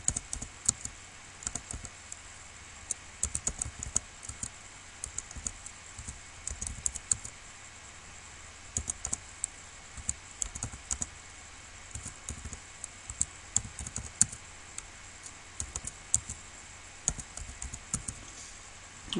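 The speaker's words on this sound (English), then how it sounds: "I'll just continue typing these in." Steady clatter of computer keys being typed, irregular bursts of clicks close by, continuing alone without talk.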